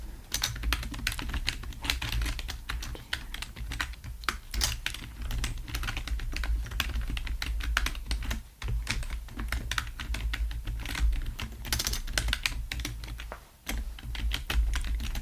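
Rapid close keyboard typing during an ASMR doctor roleplay, a dense continuous patter of crisp key clicks with only brief pauses, no talking.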